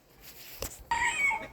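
A small flock of bantam chickens and roosters clucks nearby, a quick thump followed by a loud, sustained crowing call rising over the group.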